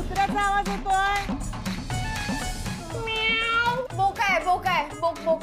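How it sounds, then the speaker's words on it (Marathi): A cat meows repeatedly in a dark household scene from a Marathi TV serial, its rising and falling cries interleaved with people talking close by. "मांजर असेल. मांजर."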